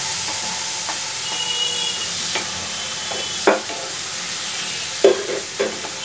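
Marinated meat sizzles steadily in a pan as cooking begins, a continuous frying hiss broken by a few sharper crackles and stirring scrapes, close and alone with no talking.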